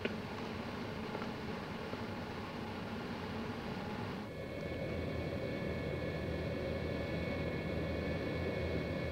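A fast jet in flight on a long trip to Maryland, heard as a steady, even roar that shifts to a thinner, more whining tone partway through and holds there.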